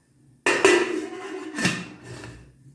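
A metal steamer plate clanks loudly into a pot, followed by a second clatter and a brief scraping rattle as it settles.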